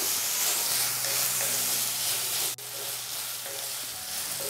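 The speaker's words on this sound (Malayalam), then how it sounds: "കുറച്ച് സമയം നമ്മൾ ഇതുപോലെ ഒന്ന് വഴറ്റിക്കൊടുക്കുമ്പോഴത്തേക്കും നമ്മുടെ ഈ തക്കാളിയും ക്യാപ്സിക്കം എല്ലാം ഒന്ന് വെന്ത് കുഴഞ്ഞ് തുടങ്ങും" Tomatoes and capsicum sautéing in a hot pan give a steady, close sizzle with a continuous frying hiss and faint stirring, broken once by a brief dropout partway through; no one speaks.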